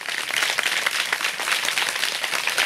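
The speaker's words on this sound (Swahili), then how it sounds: "Mpigie makofi makubwa" An audience claps for a ward councillor at a community event handing out sports jerseys to schools. The applause is dense and sustained, close and even throughout, with no speech over it.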